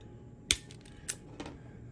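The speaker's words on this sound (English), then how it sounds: "snip that off," Wire is snipped while wiring an underwater ROV control box, with a sharp click followed by two fainter clicks in a quiet room.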